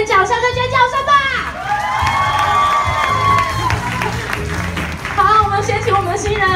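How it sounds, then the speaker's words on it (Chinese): Wedding banquet guests cheering, screaming and clapping for the bride and groom at a reception hall: a dense, loud crowd roar with shrill shouts and applause running throughout, a voice speaking over it at times. "请来点掌声跟尖叫声吧。"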